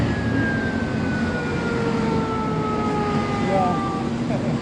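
An ambulance siren wails along a busy street near a hospital, its tone sliding steadily and fairly distant, carried over constant traffic rumble and city noise.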